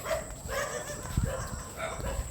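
Dogs bark intermittently at moderate distance outdoors in the Philippines, with a few short woofs and yips over quiet background noise.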